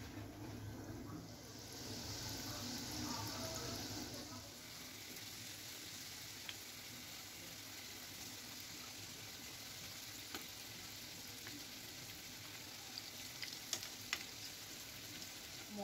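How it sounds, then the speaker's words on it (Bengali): Breadcrumb-coated potato and flour fingers frying in hot oil over a medium gas flame, a steady close sizzle and crackle that runs on evenly with only faint clinks. "এবারে এগুলোকে ভেজে নেব একে একে।"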